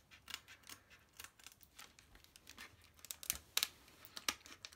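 Scissors snip and cut through a parcel's packaging in a run of short, sharp, close strokes, mixed with crinkling and tearing of the wrapping, with no voices.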